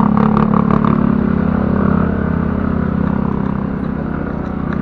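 Motorcycle engine droning and revving steadily while riding on a road trip near Ambaguio, Nueva Vizcaya, loud and close with continuous rough mechanical clatter.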